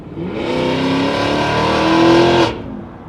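A powerful supercharged SUV engine revs hard in one sustained, loud blip for about two and a half seconds, then cuts off abruptly.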